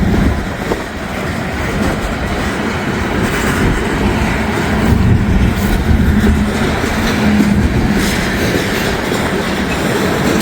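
A slow freight train of gondola cars rolls past close by, loud and steady, with rhythmic clickety-clack from the wheels over rail joints and faint squeals from the wheels.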